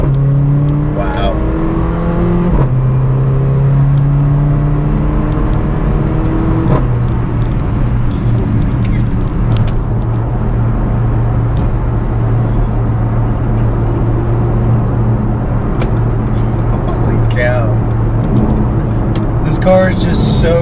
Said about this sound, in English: You shift through the gears, instant, and all those pops and gurgles from the exhaust sound amazing